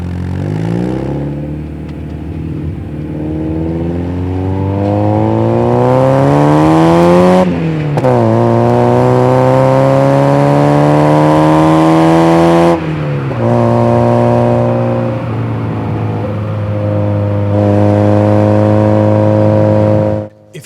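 A Mazda MX5 with a completely stock exhaust drones loudly up through the gears, its engine note climbing steadily, dropping at each shift and climbing again, close and continuous with no talk.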